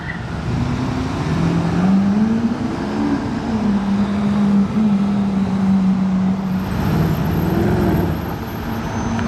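A V8 supercar engine burbles and revs in Paris traffic, its low throbbing note rising and falling over surrounding road noise, close and loud, with a second rev swell near the end.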